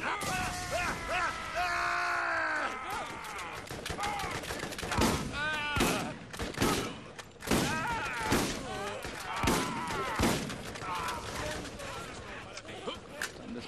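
Repeated bursts of gunfire in the video game Borderlands crack sharply and loudly in irregular volleys, with grunting voices and effects mixed in between shots.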